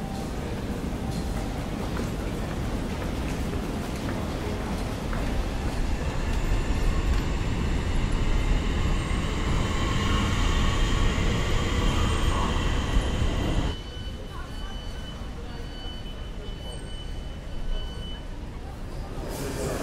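Trains rumbling through London Bridge railway station, a loud, continuous roll of wheels and carriages with faint squeals that drops to a quieter hum partway through, while a person talks over it.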